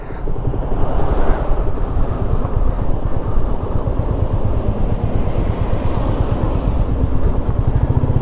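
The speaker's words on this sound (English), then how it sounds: "It's a bit windy up here" Steady, loud wind blowing in from the sea at Douarnenez, France, buffeting the microphone, a continuous low roar with gusty rumble throughout and no voices.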